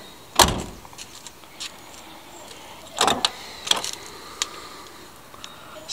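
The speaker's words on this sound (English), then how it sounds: "so you can see how nice the door shut." A car door on an original 4-speed Camaro Z28 shuts with one sharp solid thump, followed by a few lighter clicks and knocks nearby, with no talking.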